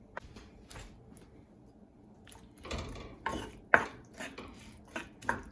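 Onions and tomatoes with olive oil being stirred in a tagine pot, spoon scraping and knocking against the vessel in irregular close bursts after a quieter stretch.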